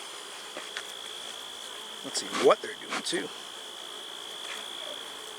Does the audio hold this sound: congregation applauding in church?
no